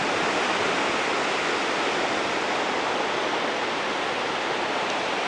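Niagara Falls roars in a steady, loud, broadband rush of falling water that holds constant throughout, with no pauses or voices.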